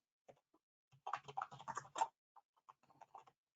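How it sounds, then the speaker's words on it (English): Quiet keystrokes on a computer keyboard, a few isolated taps followed by a quick burst of typing and then a scattering of further presses. "let's type artificial intelligence"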